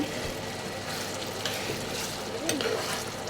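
A tomato dish cooks in a pan while being stirred, a steady broadband sizzle with occasional scraping stir strokes, moderately close and continuous.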